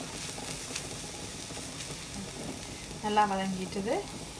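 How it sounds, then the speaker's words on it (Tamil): Mixed vegetables stir-fry in a pan with a soft, steady sizzle and faint stirring, a brief voice rising near the end. "இப்போ பாருங்க, எல்லா மரக்கறியும் நல்லா வதங்கிட்டுது."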